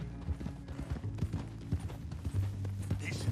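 Horse hooves clip-clopping at a steady walking rhythm in Red Dead Redemption 2, close and clear, with low music-like tones running beneath them.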